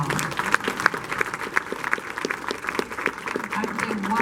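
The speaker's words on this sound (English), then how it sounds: "please let's give them a great big round of applause." Audience applause for a band from Naples at a spirit festival, a steady patter of clapping hands from a crowd, fairly close, lasting a few seconds.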